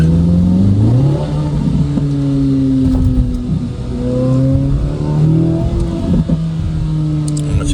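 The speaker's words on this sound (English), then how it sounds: "so you guys can hear the engine" A 2026 Chevrolet Corvette Z06 3LZ engine revs while driving in sport mode, loud and close, with rising and falling pitch sweeps as it accelerates and shifts through gears.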